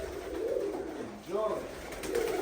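Soft coos from female show pigeons rise and fall against a hissy background, a couple of gentle rolling calls nearby.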